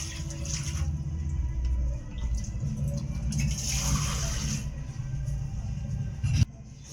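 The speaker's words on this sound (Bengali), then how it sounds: "এবার এই আলুগুলো আমি ভালো করে ধুয়ে নেবো। তো জল দিয়ে দিচ্ছি।" Water pours over cut potatoes to wash them in a home kitchen, a steady, fairly soft rush of running water with splashing and a brief clunk near the end.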